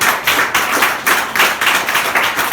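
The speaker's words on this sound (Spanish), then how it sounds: "Vamos a aplaudirlo, apláudalo, porque es así" A church congregation claps together in loud, rhythmic, unison beats at a quick, regular pace, close and prominent.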